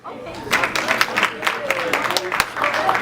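A comedy audience in a sports bar breaks into scattered clapping and cheering, a dense patter of hand claps mixed with crowd voices.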